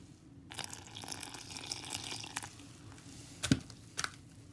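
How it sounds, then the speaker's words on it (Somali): Water poured into bread dough in a home kitchen, a soft close splashing and squishing pour with a few brief louder drips near the end. "hadeer biyihii aan ku shubayaa"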